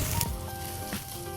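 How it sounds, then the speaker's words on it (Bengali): A steak sizzles on a hot grill, a steady close hiss with faint crackles running through the short stretch. "You guys hear the sizzle?"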